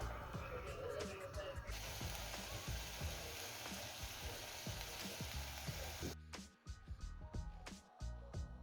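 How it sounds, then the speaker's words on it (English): Corn frying in a pan gives a steady, loud sizzle with scattered pops and crackles, dropping off sharply near the end as the heat or stirring changes. "So let's go on and cook the corn."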